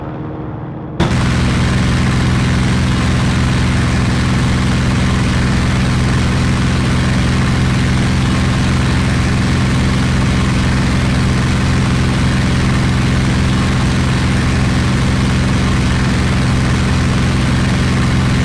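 Fighter aircraft engine in IL-2 Battle of Bodenplatte, such as a P-47D Thunderbolt or Bf 109K, roaring steadily at full power during a climb, a loud, constant drone starting abruptly after a brief quiet moment.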